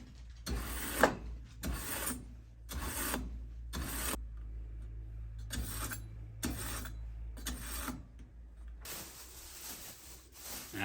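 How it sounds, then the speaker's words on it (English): A kitchen knife is drawn along a sharpener in repeated rasping strokes, about eight evenly paced scrapes close by with short pauses between, ending in a longer stroke, over a faint background hum with no talk. "Start off with sharpen that knife."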